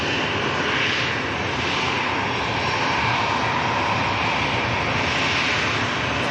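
Airliner at Manchester Airport arriving from Milan Linate: a loud, continuous broadband engine roar with a steady hiss, sustained and unbroken, without talk.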